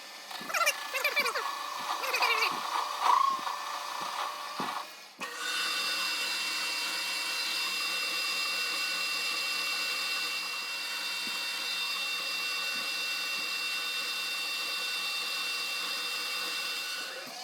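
A brass crankcase part is sawn off on a machine in a workshop: after a few seconds of talk, a loud, steady whine with a rasping edge starts abruptly and runs on evenly to the end.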